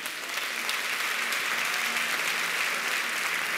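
A church congregation claps steadily for a few seconds, a dense, even patter of applause without any voices over it.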